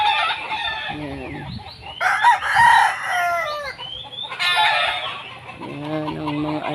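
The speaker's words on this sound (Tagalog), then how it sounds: "Yan ang mga alagang manok." Pet roosters in a yard by a mango tree crow and cluck nearby, several long crows overlapping with short clucks, rising and falling across the stretch with no one talking.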